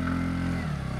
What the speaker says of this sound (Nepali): 135 सीसीमा स्कुटर उडाउनु भएको छ साथीहरू।